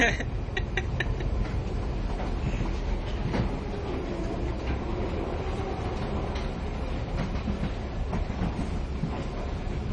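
A train rumbles along steadily with a continuous low roar and occasional rattling clicks, heard from inside a moving carriage.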